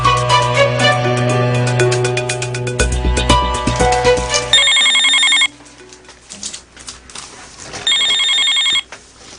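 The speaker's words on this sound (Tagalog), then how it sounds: "Ba, ang cellphone ko." A cellphone ringtone rings loudly, a bright electronic melody, then two sustained trilling bursts separated by a short pause.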